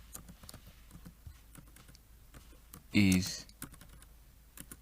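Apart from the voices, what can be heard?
typing on a computer keyboard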